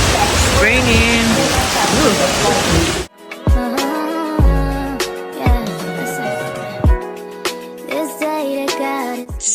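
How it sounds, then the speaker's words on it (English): Rain pours steadily as a dense, loud hiss for about three seconds, then gives way to quieter indoor sound with scattered knocks and tones. "Raining."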